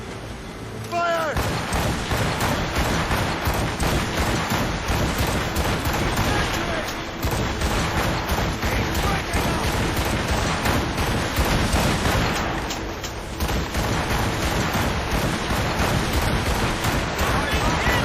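Ship cannons fire in a naval battle in Assassin's Creed Rogue, producing a dense, unbroken roar of booming volleys and blasts. The barrage runs loud and continuous, with brief dips around the middle.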